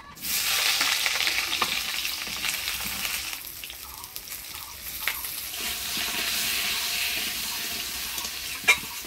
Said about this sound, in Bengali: আর এর মধ্যে অল্প তেল দিয়ে বেগুনগুলো হলুদ লবণ দিয়ে ভেজে নেব।